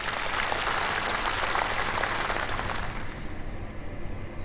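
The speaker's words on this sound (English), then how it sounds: "we will applaud for its pass" Applause fills a formal hall as delegates at a national political advisory session approve a draft, steady dense clapping that thins and fades over the last second or so.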